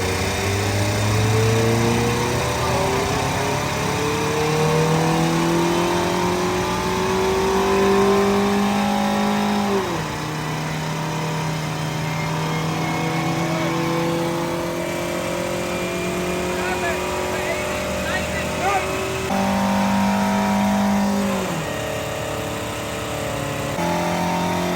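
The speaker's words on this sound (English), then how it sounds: "This is a NA Miata. It's probably gonna make like 75 to 95 horsepower." A Mazda Miata NA on a dyno at a big car meet revs hard: repeated rising engine pulls, each climbing in pitch and then dropping back. The engine is loud and close, with voices talking underneath.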